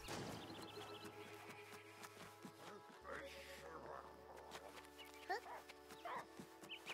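A dog in the video game Last Day of June barks and whimpers in short bursts over game music and ambient sound, with someone talking at times.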